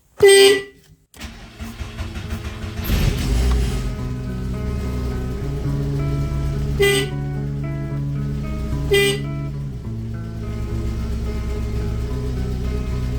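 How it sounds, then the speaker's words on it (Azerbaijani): A Volkswagen Polo's horn, just repaired, gives a few short, sharp honks, one early and two later, over the steady hum of an idling engine. "Bu da bizim siqnalımız."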